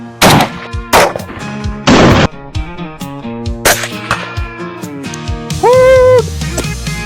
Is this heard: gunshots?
yes